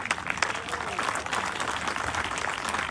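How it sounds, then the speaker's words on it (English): Audience at a town hall meeting clapping, a steady wash of applause from the crowd that holds for a few seconds at moderate level, with some talk mixed in. "I think a lot of people here are clapping because that's a bold move"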